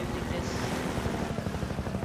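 A helicopter in the Half-Life 2 video game drones steadily with a dense rapid rotor chop, loud and continuous throughout.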